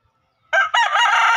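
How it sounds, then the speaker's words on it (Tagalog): A newly bought rooster crows once, close and loud, in a short bright call that starts with a brief note and swells into a sustained crow. "may bago akong nabiling manok."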